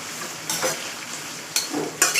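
Coconut chutney ingredients fry in a pan, a soft sizzle broken by three quick scraping stirs of a spatula, close and fairly loud.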